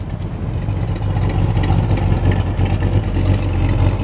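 Deep, throbbing rumble of a 1966 Plymouth Barracuda's engine idling close by, with a cam-driven uneven lopey pulse through dual exhaust and no voices.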